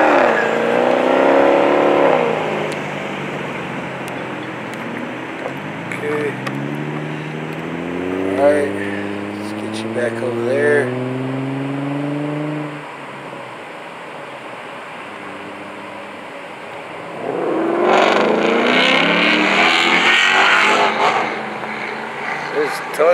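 Cars rev and roar at a nighttime street sideshow, engines swelling and dropping in long loud surges, with a person speaking briefly over the din.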